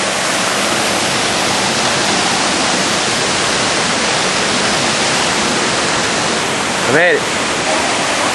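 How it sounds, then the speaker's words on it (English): A small waterfall along the road to the Seven Sacred Pools near Hana fills the air with a loud, steady roar of rushing water, with a brief spoken remark heard over it. "a little waterfall on the way"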